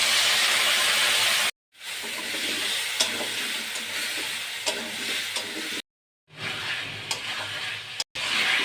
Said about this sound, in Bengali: এখন আমি মশলা দিয়ে কষিয়ে নেব।